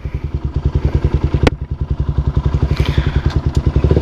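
A carbureted Honda CBR 150 R motorcycle engine runs close by with a steady, rapid thumping idle pulse, plus a sharp click partway through and faint higher rattles later.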